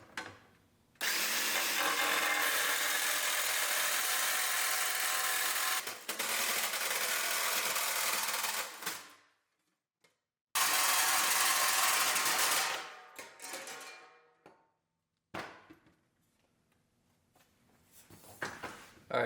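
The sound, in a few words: cutting custom fender liner for Ford Bronco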